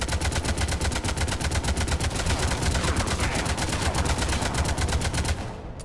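Rapid automatic gunfire aimed at a Turian escape pod in Mass Effect 3, a dense, loud, steady stream of shots running nearly six seconds before cutting off abruptly.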